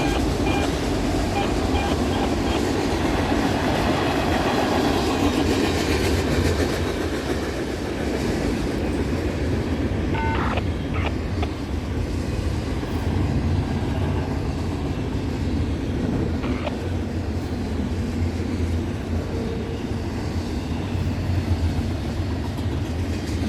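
A Norfolk Southern freight train hauling auto rack cars rolls past near a bridge in Elyria, Ohio, a loud and steady rumble with clickety-clack of wheels and wind buffeting throughout.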